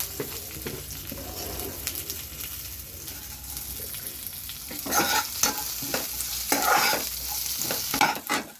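Chilies frying in oil in a pan with curry leaves, sesame seeds and crushed garlic, giving a steady close sizzle broken by scraping stirs, louder bursts of crackle and spatter coming in the second half.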